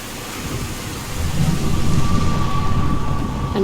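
Steady in-game rain from Mass Effect 2 drumming on metal surfaces, a dense continuous patter with low rumbling underneath that swells slightly partway through, no voices.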